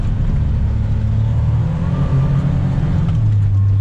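A farm vehicle's engine runs steadily in four-wheel drive, a loud, continuous low drone heard close and from inside, with slight shifts in pitch as it drives.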